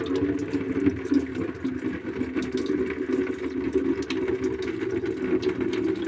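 Water pours continuously out of the air conditioner drain of a Mitsubishi Grandis car, a steady close splashing stream with no talk.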